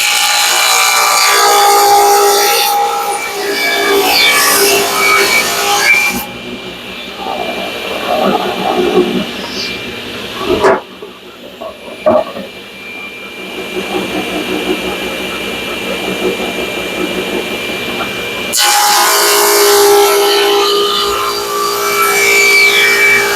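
A table saw fitted with a miter gauge trims the ends off a wooden charcuterie board, giving two loud, sustained whining cuts separated by a quieter stretch with handling noises and some talk.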